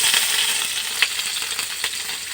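Whole cumin seeds hiss and crackle in hot oil, a steady close sizzle with a few sharper pops, no voices.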